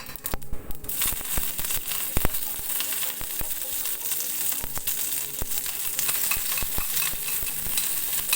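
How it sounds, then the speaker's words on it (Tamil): Mustard seeds, urad dal and curry leaves tempering in hot oil in a pan for garlic chutney, a steady loud sizzle with sharp crackles and pops scattered throughout, no voices. "ஒரு பேன் வச்சுட்டு கடுகு, உளுத்தம்பருப்பு, கருவேப்பிலை இது எல்லாமே போட்டுட்டு தாளித்து நம்ம சட்னியில் ஊற்றிக்க வேண்டியதுதான்"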